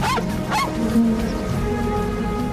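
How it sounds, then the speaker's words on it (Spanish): Dogs yelp and whimper in short bursts close by, over a constant dense background rumble. "Los perros ladran y jadean"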